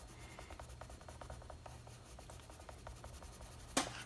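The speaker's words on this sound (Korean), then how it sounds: "선생님이 이번에는 밑에 쪽만 칠해 볼게요" A colored pencil rubs across paper in soft, quick scratchy strokes, faint and close, repeated in short bursts, with a sharper brief scrape near the end.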